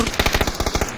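Rapid automatic gunfire from PUBG, about a dozen sharp evenly spaced bursts in a one-second volley, loud and close with no talk over it.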